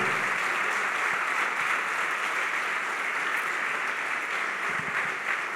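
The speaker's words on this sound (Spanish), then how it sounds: "¿Por qué no le das un aplauso a Dios?" A church congregation applauds God during a sermon with sustained, even clapping that fills the room, moderately loud and steady, with only occasional low thumps and no speech.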